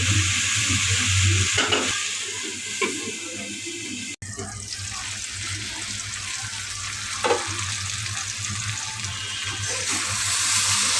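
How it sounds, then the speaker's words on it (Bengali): Food being stirred in a pan in a home kitchen, a steady hiss of frying with scraping, a sharp knock partway through and a muffled, softer sizzle afterward. "এখন নেড়ে চেড়ে আম্মু ঢাকনা দিয়ে ঢেকে দেবে।"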